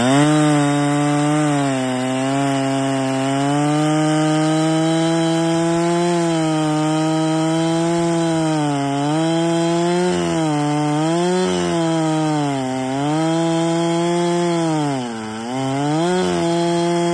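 A Husqvarna 395XP chainsaw mills a log on a Granberg Alaskan mill, its engine droning loud and close without a break and wavering in pitch as the load changes through the cut.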